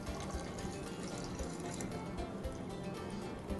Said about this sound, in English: I'm going to take our wonderful yeast mixture and pour that in there.